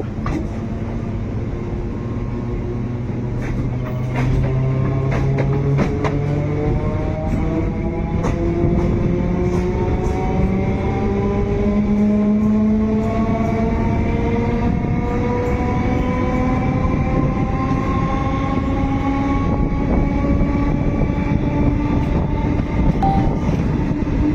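Local train running on the Naihati to Bandel line, a loud continuous rumble of wheels on track with rising and falling motor whine, heard from on board.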